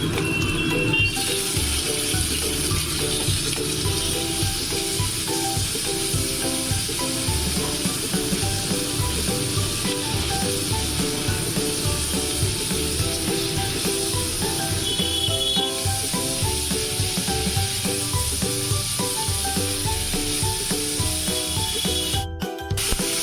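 Prawns fry with onion and garlic in a pan, giving a continuous close hissing sizzle with steady rubbing stir strokes that run evenly for the whole stretch, without any talk.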